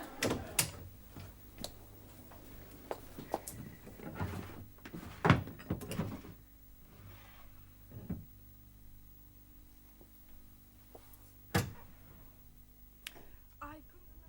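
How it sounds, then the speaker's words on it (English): Drawers are pulled open and pushed shut in a small office in a 1978 radio drama, giving several sharp wooden knocks and sliding scrapes spread over the stretch, fairly faint, with no talk. "there were two drawers. You opened one of them, and you sort of looked round, furtive-like."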